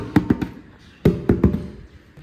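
Small hand drums at a hotel DJ stand are tapped in two quick bursts of three sharp, close hits, separated by a short pause.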